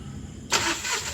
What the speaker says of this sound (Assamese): গাড়ীখনটো ষ্টাৰ্ট দিয়া হৈ গ'ল